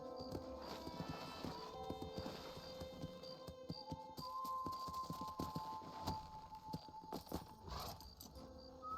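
Horse hooves clip-clop at a walk in Red Dead Redemption, fairly quiet and irregular, mixed with light jingling and background game sounds.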